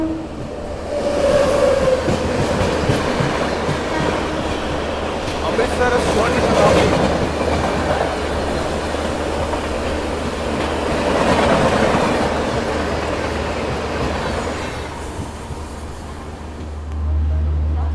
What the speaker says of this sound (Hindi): ट्रेन है कुरुक्षेत्र जंक्शन एंटर कर रही है, कोई तो ट्रेन स्किप कर रही है।